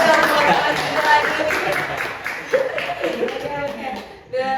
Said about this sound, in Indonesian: Tepuk tangan dulu dong buat Mas Gilang lagi.